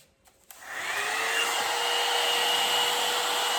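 A hair dryer clicks on and settles into a steady, loud, close whooshing hum with a constant whine, blowing warm air over a human hair blend wig.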